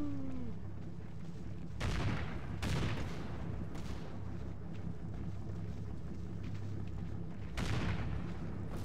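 Gunfire in the WWII tactics game Combat Mission: Fortress Italy: several sharp, loud shots crack at intervals over a steady low rumble of battle, with a couple of heavier bursts standing out near the start and end.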